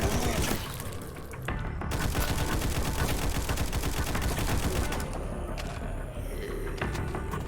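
Gunfire in the zombie shooter Frontline Zed: loud, near-continuous rapid bursts of automatic fire with sharp cracks, sustained throughout without a pause.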